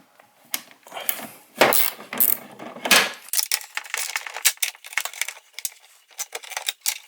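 Small metal screws and fasteners rattle and click while being undone on the third brake light of a Chevrolet Suburban, a rapid series of close, sharp ticks and scrapes with no talking.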